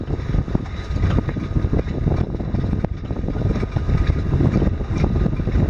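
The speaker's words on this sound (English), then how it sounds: "We seem to have more wind than was forecast." Wind roars across a cruising boat heading toward New London Ledge Lighthouse: a loud, steady broadband rush that gusts and buffets continuously, with no talking.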